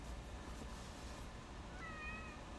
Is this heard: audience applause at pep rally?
no